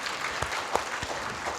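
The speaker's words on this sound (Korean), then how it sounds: "박수 한번 칩시다." A gathered congregation claps briefly at a festive meeting, soft and fairly distant applause with a few sharper claps standing out.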